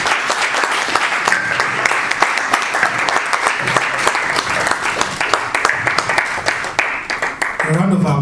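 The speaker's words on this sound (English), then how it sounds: "A round of applause once again for our" An audience at an industry and research event on mycotoxins applauds steadily, dense clapping filling the room at even loudness, with a brief voice near the end.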